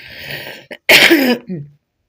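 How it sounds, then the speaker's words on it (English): A single close, rough cough with a throaty rasp, followed by a brief breathy tail, loud and isolated. "I am getting a little bit of a cough"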